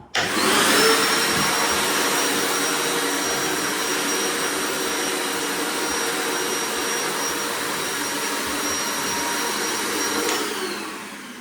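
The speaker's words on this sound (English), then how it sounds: "Time to vacuum all of this crap up." A vacuum cleaner runs continuously with a loud, steady high-pitched whine and roar, close by, winding down at the end.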